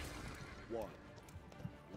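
A horse neighs once in the Paladins video game, a short whinny with a falling pitch over steady game sounds and background noise, followed by a brief sharp hit.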